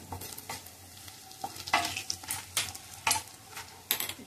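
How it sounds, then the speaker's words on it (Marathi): A spoon scrapes and stirs Kashmiri chili masala in a pan, with a soft sizzle underneath and several distinct, close scraping strokes spaced irregularly through the clip; no one speaks. "चांगलं मिक्स करूया."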